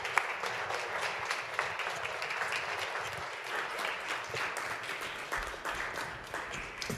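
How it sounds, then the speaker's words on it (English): Sustained audience applause at a Trenton Public Schools Board of Education meeting following a student presentation, steady dense clapping throughout with no speech. "Give them another round of applause."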